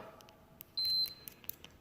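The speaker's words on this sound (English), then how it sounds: "it'll beep when you have continuity" A single short high-pitched multimeter continuity beep, clean and steady, in an otherwise quiet setting with faint clicks around it, while testing a dryer fuse.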